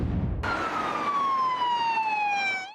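An emergency vehicle siren rises in suddenly over road rumble, a loud steady wail that slowly drops in pitch as it passes, with no other sound over it.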